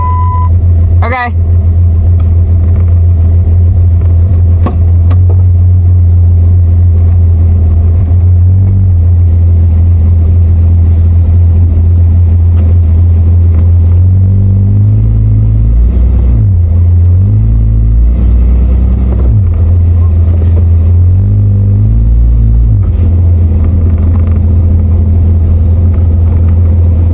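A car rolling forward after being eased into gear: a loud, steady low engine drone close by with a few swells in revs, and people talking over it.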